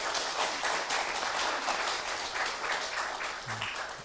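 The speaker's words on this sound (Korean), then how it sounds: "먼저 박수로 환영하겠습니다" A church congregation claps together to welcome new members, a steady, even round of applause from a gathered crowd in a worship hall that holds at a constant level throughout.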